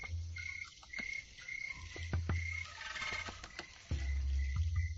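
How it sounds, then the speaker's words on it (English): Crickets and katydids chirp steadily on a warm summer night, a dense insect chorus with sharp repeated calls over a low continuous drone, with no voices present. "the leaf-like insect has a proclivity for making a lot of noise, especially on warm summer nights"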